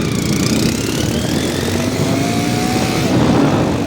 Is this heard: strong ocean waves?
no